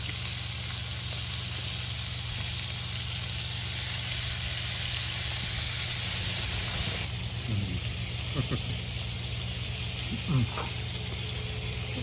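Bacon frying on a 22-inch Blackstone Adventure Ready griddle outdoors, a steady loud sizzle and hiss running throughout, with a few brief voice sounds near the end.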